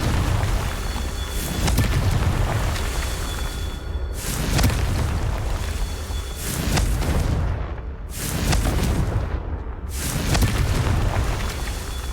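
Confringo spell blasts in Hogwarts Legacy, a video game, go off as a series of loud booming explosions, roughly five heavy bursts spaced a couple of seconds apart, each with a rumbling tail and no talk over them.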